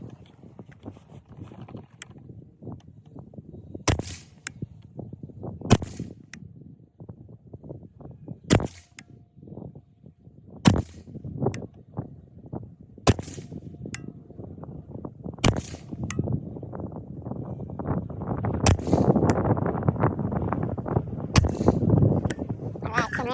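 Nine sharp rifle shots ring out from a 6.5 Grendel rifle with a 12.5-inch Sons of Liberty Gun Works barrel, fired from a 15-round magazine at a range. The reports come at uneven intervals of about two seconds, loud and close, over rising wind and rustling.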